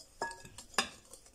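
Flour and sugar being stirred together in a bowl for a Breton shortbread cake, heard as a few scraping, clinking strokes of a utensil against the bowl, close and fairly quiet.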